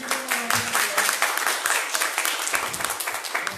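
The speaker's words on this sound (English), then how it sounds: "Let's give him a round of applause." Audience applause for a visiting city engineer at a community event, a steady broadband wash of clapping from a crowd, fairly close and sustained throughout.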